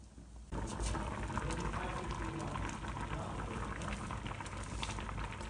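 Homemade soybean paste stew boils hard in a pot, a close, dense, continuous bubbling and seething with no one speaking.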